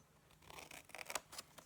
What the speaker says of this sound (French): On prend les ciseaux